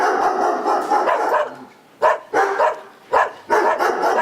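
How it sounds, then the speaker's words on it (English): Several dogs bark loudly in rapid overlapping bursts during a stage play of Shakespeare's Merry Wives of Windsor, with a brief lull before the barking resumes in sharp, repeated yaps. "do your dogs bark so?"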